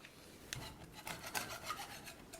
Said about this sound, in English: Any loose paint, just scrape it off.